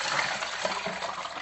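Water is poured into a large bowl of ice, giving a brief, close splashing gush with light clinking for about a second and a half.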